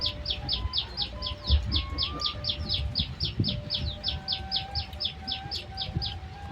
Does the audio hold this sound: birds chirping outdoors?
yes